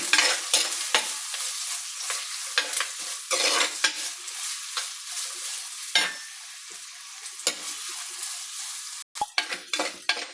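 Sliced ginger, chopped shallots and green chillies (with garlic) sizzle steadily in hot oil for a fish curry, with repeated scraping stir strokes from a spoon against the pan and a brief break near the end.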